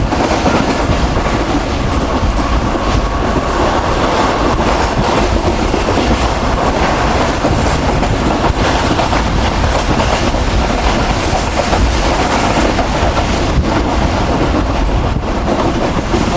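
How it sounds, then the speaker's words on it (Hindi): Pak Business Express passenger train on the Karachi to Lahore route running at speed past Padidan Junction, with a loud, continuous rumble and rattle of carriages and wheels over rails throughout, no voices. "तो 12:15 बजे ट्रेन हमारी काफ़ी अच्छी स्पीड में स्किप करने जा रही है पडीगंज जंक्शन रेलवे स्टेशन को।"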